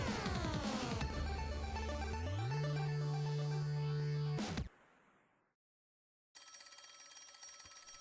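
In the video game Travis Strikes Again, loud music gives way to a brief pause, then a phone starts ringing with a bright, repeating electronic tone.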